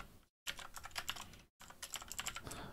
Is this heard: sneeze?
no